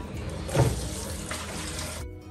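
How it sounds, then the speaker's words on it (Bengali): Raw chicken rinsed under a running kitchen tap, a steady close stream of water splashing into a sink, briefly louder near the start before the flow stops abruptly. "চিকেনটা একটু ধুয়ে নিই।"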